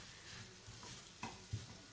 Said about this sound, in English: I cover this after frying for some time in ghee